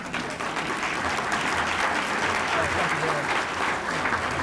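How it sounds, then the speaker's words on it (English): An audience at a drug court anniversary luncheon and awards ceremony breaks into sustained, even applause, with dense clapping filling the room for several seconds. "Here's applause for him, please."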